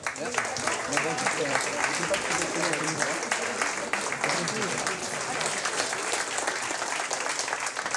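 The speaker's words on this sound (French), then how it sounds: "On peut les applaudir bien fort" An audience applauds prize winners at a French dictation contest, a sustained even wash of many hands clapping at moderate distance for around eight seconds, with some voices mingled in.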